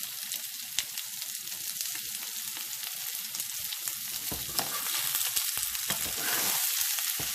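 A big pot of vegan jambalaya sizzles steadily, a close, continuous hiss and crackle of frying with scattered scraping stir strokes, slightly louder toward the end and with no talking.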